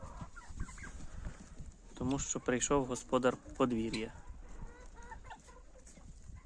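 Legbar hens and roosters cluck and call close by in a farmyard, a steady run of short clucks with someone talking over them through the middle stretch.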